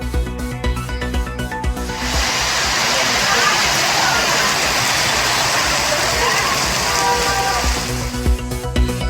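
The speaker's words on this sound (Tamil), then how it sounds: "நெல்லை மாவட்டம் திசையன்விளையில் கனமழை." Heavy rain falls in Thisayanvilai, Tirunelveli district, as a loud, steady hiss that begins after about two seconds and continues under a background music bed.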